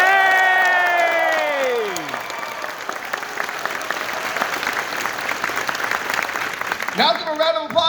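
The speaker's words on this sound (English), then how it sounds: "Now give a round of applause if this is not your first year at Fur Fest." Closing-ceremony crowd at Midwest Fur Fest 2019 bursts into sustained applause after a drawn-out shout, a thick, even clapping texture with light cheering, and another voice calls out near the end.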